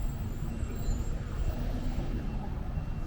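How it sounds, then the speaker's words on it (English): Steady, moderately loud roadway noise from a busy street near a Sam's Club and 24-hour Walmart in Puerto Vallarta, a continuous low rumble of passing traffic with no voices. "Busy street."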